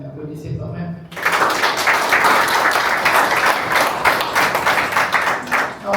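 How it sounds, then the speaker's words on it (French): Loud, sustained applause and clapping from a crowd at a wedding celebration, breaking in abruptly after a brief moment of quieter sound and continuing steadily with dense overlapping claps. "Applaudissez quand même"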